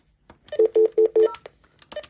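Speed dial on an AT&T 821 corded telephone sending a quick run of four loud, evenly spaced touch tones, framed by faint button clicks and handling noise, no talk.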